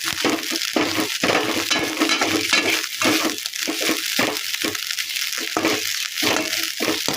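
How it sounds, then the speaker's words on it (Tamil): Dried fish fries in oil in a pan over a low flame, giving a dense, continuous sizzling hiss broken by frequent scraping and stirring clatter close by. "அடுப்பை நல்லா குறைச்சிக்கிட்டு வறுத்துக்கணும்"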